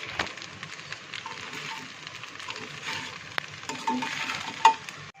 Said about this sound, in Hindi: टमाटर सॉस डाल देंगे। अब अच्छी तरीके से चलाएंगे।